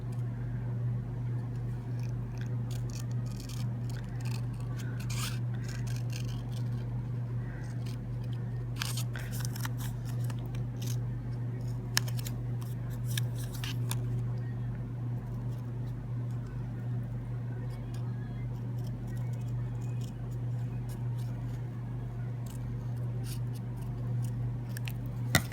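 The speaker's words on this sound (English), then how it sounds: "I like to cut those big pieces off because sometimes they get in the way." Scissors repeatedly snip through paper pieces for a paper-piecing craft project, giving a steady run of close, crisp cuts over a constant low hum, with no talking.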